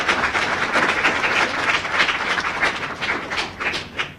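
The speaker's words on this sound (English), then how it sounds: "A round of applause for Tamara." An audience at a spelling competition claps for a contestant after her final word, steady dense clapping from start to finish with no voices over it.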